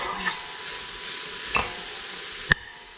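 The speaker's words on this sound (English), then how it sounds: "You're just gonna sweat these vegetables until these onions are translucent." Onions and vegetables sweating gently in a pan give a soft, steady sizzle, broken by a few brief stirring clicks of a utensil against the pan.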